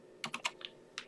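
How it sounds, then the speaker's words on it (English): Several quick keyboard key clicks, a tight cluster of three or four presses followed by a softer one and a last click after a short pause, close and crisp with no talking. "But now I'm going to do Control V"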